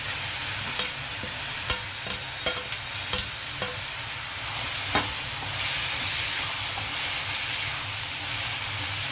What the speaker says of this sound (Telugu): బీన్స్, పచ్చిమిర్చి, కరివేపాకు, కొత్తిమీర అన్నీ వేసేస్తున్నాను